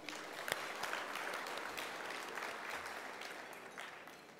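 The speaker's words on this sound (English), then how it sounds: "let us give a big clap to our new Secretary General of the East African Community" Audience applause breaks out at the FIRE Awards 2011 ceremony as a new Secretary General of the East African Community is welcomed, a steady, dense wash of clapping from a large room that holds evenly throughout.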